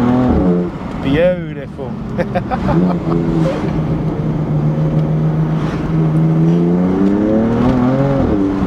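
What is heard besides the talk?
BMW M4 accelerating in second gear with window down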